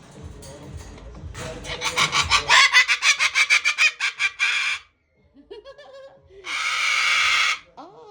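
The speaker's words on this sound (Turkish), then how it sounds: "Taklacı papağanlarım." Pet tumbler parrots let out a close, loud run of rapid rhythmic squawks, fall quiet for a few soft chirps, then give one long, harsh, sustained screech.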